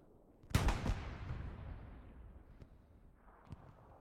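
A heavy artillery blast in the World War II game Hell Let Loose, one loud booming impact that rolls off into a long fading rumble, followed by faint distant thuds.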